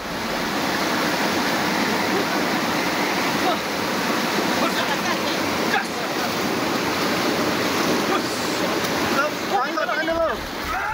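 Swift river current rushing over rocks on the Lubuk Minturun river in Koto Tangah, Padang, West Sumatra, during a search and rescue evacuation; a loud, steady broadband roar of water fills the whole stretch without a break.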